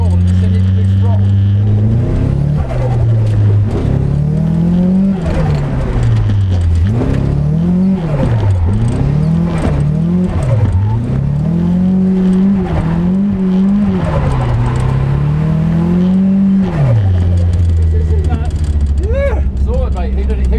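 An SR20-engined Nissan S13 drift car revs hard and repeatedly, rising and falling in pitch through long sweeps, with tires squealing and skidding throughout, loud and close.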